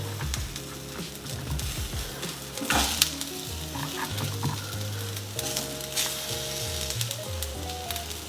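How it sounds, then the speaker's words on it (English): Onions and mushrooms frying in a pan give a continuous loud sizzle, with stirring scrapes and occasional sharper crackles across the whole stretch, no voices over it. "Now that our onions have cooked down a little bit, I'm going to throw in our mushrooms."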